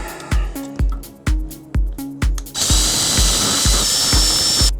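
A drill bit used like a mill grinds away excess plastic inside an 80s Lasonic TRC-975 boombox, loud and close, in short repeated bursts that spin up and fade, then one long sustained grind.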